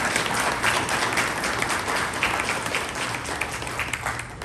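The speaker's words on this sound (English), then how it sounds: "Let's give him another big round of applause." An audience at a Radcliff and Vine Grove mayoral and city council candidates forum applauds steadily, a dense wash of many hands clapping that holds at an even level throughout.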